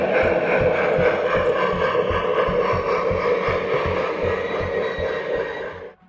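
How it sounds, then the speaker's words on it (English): A Lionel Erie Triplex 2-8-8-8-2 model steam locomotive's tender motor drives its wheel slip feature, a loud, rapid mechanical whirring and rattling with a steady ratcheting pulse and high whine that winds down and stops. "it uses a separate motor in the tender itself that creates a wheel slip feature"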